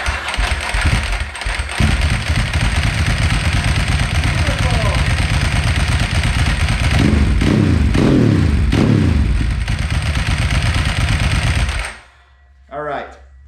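A warm motorcycle engine fired up without choke, running loud and steady at idle with a rough mechanical rumble, then cutting off abruptly near the end, followed by a brief faint sound.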